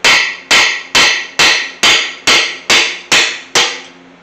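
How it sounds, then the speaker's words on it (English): Nine sharp, evenly spaced hammer blows on a chisel, each ringing briefly as it drives out a freeze plug from a small-block Chevy 307 engine block, loud and close with no talking. "if you've never pulled a freeze plug out before, you're gonna need flat tip screwdriver or a punch or a chisel and a hammer"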